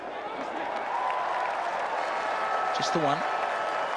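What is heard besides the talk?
cricket crowd in Hamilton applauding McCullum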